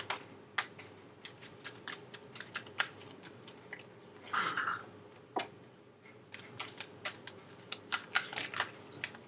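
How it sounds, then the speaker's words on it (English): Tarot cards are shuffled by hand in a series of crisp, rapid riffles and flicks, close and fairly quiet, with irregular bursts separated by short pauses and a soft rustle midway. "3 more shuffles."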